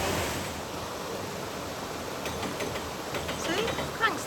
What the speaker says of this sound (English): Cranks the handle and water comes through those slats.